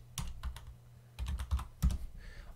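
Keys clack on a computer keyboard in three short clusters of quick, close taps over a quiet background, with no voice.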